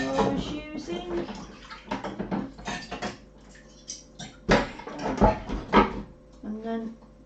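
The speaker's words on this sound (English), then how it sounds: "let me just wash my spoon that I was using" A spoon being rinsed under running water at a kitchen sink, with splashing and clinking in uneven bursts and a person talking throughout.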